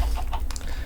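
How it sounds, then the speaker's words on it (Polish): A chicken in Minecraft gives a short run of clucks, close and fairly loud over a low rumbling game background, with no talking. "Czy gdzieś tu jeszcze są jakieś kurczaki?"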